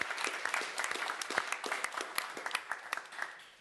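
Audience applause fills a room at a livestreamed tech summit, a burst of many hands clapping at fairly close range that stays dense for a few seconds before thinning out.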